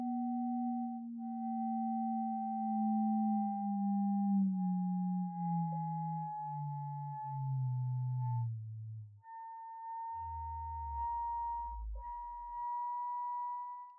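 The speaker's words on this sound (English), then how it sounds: "I can hear one frequency go up, which is the sum of the two, and I can hear one frequency going down," Two ring-modulated sine tones heard together, one steadily gliding upward while the other slides downward until it drops out into a low buzz near the end, clean and alone.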